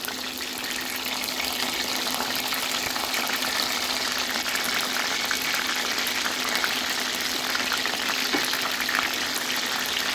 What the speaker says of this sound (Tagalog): fry it again for another 3 minutes